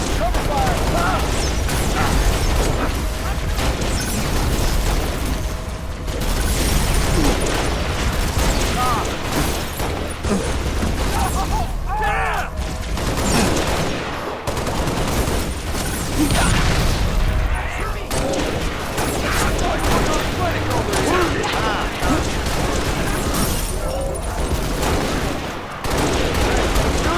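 Sustained Halo: Reach firefight on a Legendary campaign mission, with dense bursts of gunfire, booms and mechanical clatter going on almost without pause, while voices shout over the battle.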